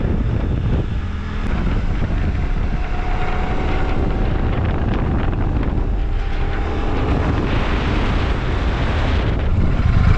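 A Royal Enfield Super Meteor 650 motorcycle on the move, with a steady engine drone and heavy wind rush across the mic, loud and continuous throughout.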